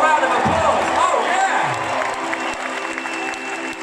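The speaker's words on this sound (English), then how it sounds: "Give yourselves a round of applause." A large concert crowd at Radio City Music Hall in New York applauds and cheers loudly, with whoops and shouts over dense, steady clapping.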